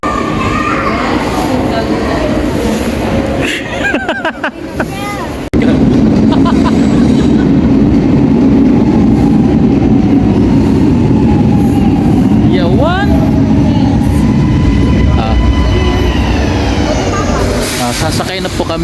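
Train noise aboard the Garibaldi Express bound for Milan: a steady low rumble that grows louder and fuller about five seconds in, with brief squeals and clatter and people's voices murmuring throughout.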